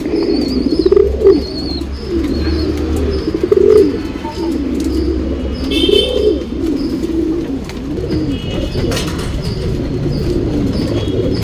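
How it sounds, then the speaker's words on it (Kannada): Male Jacobin pigeons, top-class breeding birds, coo in a low rolling rhythm, several overlapping calls close by, with faint chirps and occasional wing flutters in the background. "ಜಾಕಲ್ಲಿ ಟಾಪ್ ಕ್ಲಾಸ್ ಗಂಡು, ಜಾತಿ ಮಾಡ್ಕೊಳ್ಳೋಕ್ಕೆ, ಜೊತೆ ಮಾಡ್ಕೊಳ್ಳೋಕ್ಕೆಲ್ಲ ಕ್ಲಾಸ್ 1 ಹಕ್ಕಿ"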